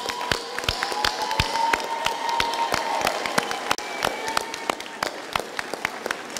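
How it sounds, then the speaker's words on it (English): Audience applause at a university graduation ceremony for graduates receiving certificates, diplomas and degrees: a dense, steady crowd clapping with loud individual claps cutting through, sustained for several seconds in a large hall. "I think you can give yourself a good round of applause first."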